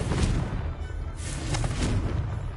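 Confringo blast spell effects from a Harry Potter game, several booming, explosive bursts in quick succession, loud and close, with no talking.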